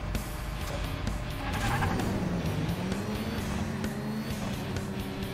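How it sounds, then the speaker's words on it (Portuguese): Race cars in the Hot Wheels Unleashed video game burning rubber at the start, a steady loud engine roar with rising and falling revving tones and tire squeal, continuous throughout. "A galera fica queimando pneu na largada, mano"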